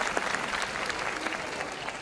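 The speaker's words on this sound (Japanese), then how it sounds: "ここは会場から大きな拍手" Audience applause fills a pro wrestling venue during a Kyushu Pro-Wrestling match in Hita, a steady dense wash of clapping that holds evenly loud for the whole two seconds.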